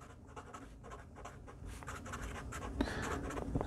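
During a software development lecture, marker or chalk strokes write on a board in quick, scratchy bursts that grow busier toward the end, moderately close in a quiet room.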